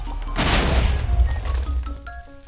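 A large explosion set off by placing a Lucky Block in Minecraft, heard as a sudden loud blast with a deep rumbling tail that slowly decays over about two seconds.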